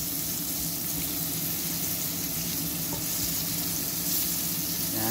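Batchoy ingredients sizzle and fry in hot oil in a pan on a stovetop, a steady, close crackling hiss throughout with faint stirring and no talk.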